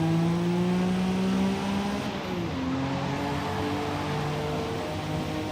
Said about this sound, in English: Ever since I added this turbo kit to this car as well, I definitely gained an advantage. It sounds awesome though.